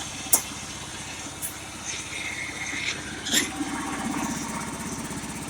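A Honda lawn tractor engine idles with an even, low, throbbing putter, steady throughout, with a couple of light clicks and knocks on top and no clear talking.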